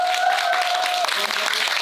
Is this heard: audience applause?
yes